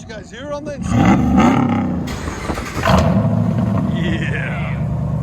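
Cabin view of a RAM 1500 HEMI V8 pickup's exhaust, a deep roaring rev that swells twice and then settles into a steady drone, with voices talking briefly at the start.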